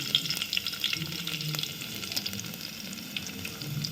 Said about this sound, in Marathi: मसाला लसूण छान फ्राय झाला मसाला मसाला छान फ्राय झाला कडेने तेल सुटलं